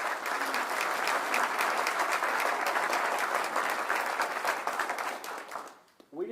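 Audience at an Amarillo update on the state hospital applauds elected officials, a loud sustained round of dense clapping that fades out near the end before a voice starts.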